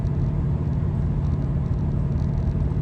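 Ford Falcon XB coupe engine rumbling steadily and close, a dense low throb heard from inside or near the car, without speech.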